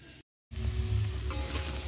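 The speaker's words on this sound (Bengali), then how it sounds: "এবার এটা আস্তে আস্তে করে ঢেকে ঢেকে ভাজবো।" Vegetables frying slowly in a covered pan over a low gas flame, a steady soft sizzle that starts after a brief gap of silence and then holds evenly.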